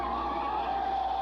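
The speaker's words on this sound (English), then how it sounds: "my partner Larry will be here right after he finishes parking the car" A car skids while being parked, a steady sustained tire screech holding at even loudness from start to finish with no talk over it.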